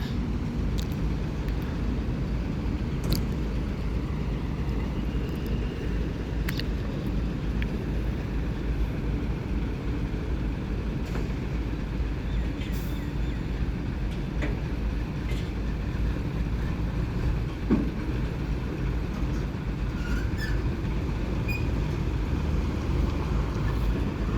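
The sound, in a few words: car being driven out to park outside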